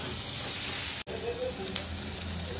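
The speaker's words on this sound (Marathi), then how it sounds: "आपण कांदा ना लाल होईपर्यंत भाजून घेणार आहे" Onion frying in a pan until it turns red, for a Khandeshi-style chicken masala curry; a steady broadband sizzle that stays loud throughout, broken by one sharp momentary dropout and a brief clink.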